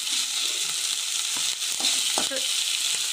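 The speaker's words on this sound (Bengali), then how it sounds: "এবারে পেঁয়াজ দেব মাছের মধ্যে, যে রসুন বাটা, আদা রসুন বাটা একসাথে করেছি, যে কাঁচা লঙ্কা দিচ্ছি, একটু ভাজতে হবে ভালো করে।" Onion, ginger-garlic paste and green chili fry with dried fish in a pan, a steady close sizzle running throughout with a few brief stirring scrapes over it.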